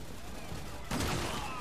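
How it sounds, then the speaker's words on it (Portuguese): A shotgun blast in the Resident Evil 6 demo, a sudden loud burst of game gunfire partway through, with game ambience before it. "eu dei um tiro de 12 no cara e o cara não morre"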